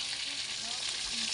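Tilapia frying in oil over a wood fire, a steady dense sizzle that stays close and even throughout, with no talking.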